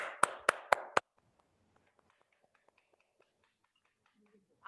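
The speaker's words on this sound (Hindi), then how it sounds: "तालियां बजती रहें।" Applause at an online Hinglish Toastmasters club meeting: a short run of four sharp, close claps, followed by near silence with faint scattered taps before a voice starts at the end.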